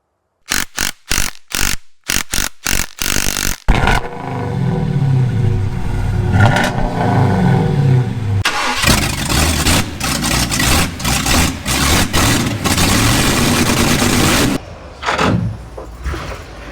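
A 1977 Ford F600 truck engine runs rough on only three of its eight cylinders, with sharp, loud starter bursts followed by a lumpy, uneven idle and revving that stumbles nearby.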